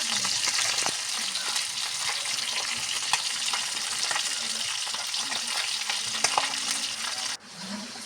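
Fish frying in a pan for a simple Filipino sarsyado dish, a steady dense sizzle and crackle of hot oil running close and unbroken, dropping off abruptly near the end.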